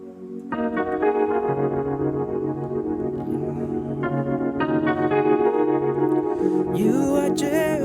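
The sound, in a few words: keyboard playing worship music with rotary DSP effect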